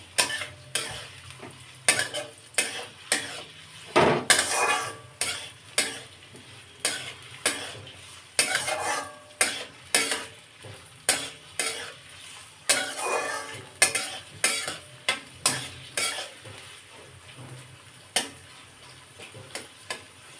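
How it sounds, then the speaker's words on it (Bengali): Onions frying in a pan for a Bengali chicken dish, a steady close sizzle broken by regular sharp scrapes and knocks of a utensil stirring against the pan. "পেঁয়াজটা একটু লাল করে ভেজে নেব"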